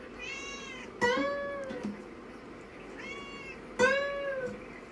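A cat meows twice, each a clear, close, drawn-out call with a sharp start that fades away, with a quiet gap between them.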